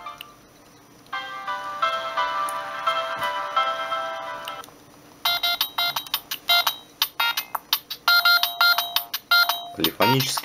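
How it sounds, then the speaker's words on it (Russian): A Siemens CT65 mobile phone, a T-Mobile variant of the C65, plays its standard polyphonic ringtone, a bright electronic melody of quick repeated notes, loud and close. A voice briefly joins near the end. "Полифонический рингтон стандартный."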